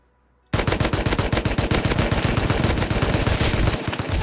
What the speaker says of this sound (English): Where did this guy get an AK from?